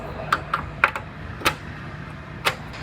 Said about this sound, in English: Then I'm gonna scribe my cut line.